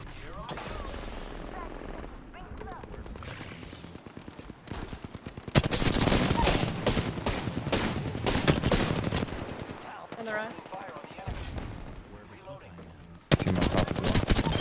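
Automatic and rapid gunfire in the battle-royale shooter Apex Legends, loud bursts that come and go, with heavy barrages partway through and again at the end, mixed with players talking over the action.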